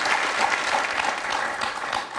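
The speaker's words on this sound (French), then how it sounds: "Laurent, on peut l'applaudir." Studio audience on a French television quiz show breaks into steady, sustained applause, a dense wash of clapping that holds at even loudness throughout with no talk over it.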